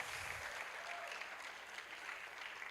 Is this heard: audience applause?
yes